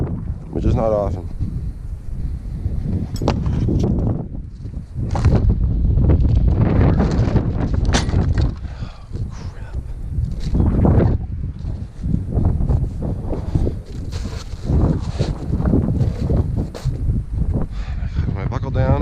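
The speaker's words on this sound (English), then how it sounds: "every time I come here, it's always windy" Strong wind buffets a microphone outdoors during an annual tune-up of a Kubota BX1860 compact tractor, a loud, continuous low roar that swells and gusts throughout.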